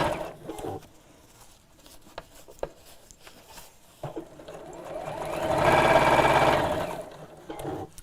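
A sewing machine stitches a fabric dress-up crown with ribbon tucked inside, starting with short stop-start bursts of stitching, then a sustained louder run of rapid needle chatter before easing off.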